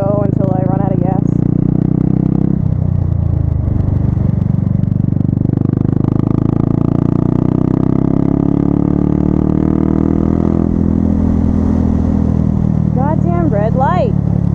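A motorcycle engine idles steadily while stopped at a red light, a continuous low rumble with wind noise, while someone talks over it.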